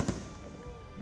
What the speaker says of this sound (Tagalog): Matapos ang misa, nagningning ang kalangitan sa fireworks display